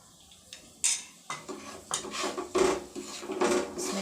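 A spoon stirs in a cooking pot of homemade chicken cubes, making a series of irregular scrapes and light clinks that come close and fairly quiet, with no voice over them.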